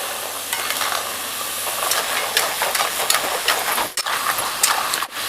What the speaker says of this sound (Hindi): तो खुरमा अच्छे से फ्राई हो गया है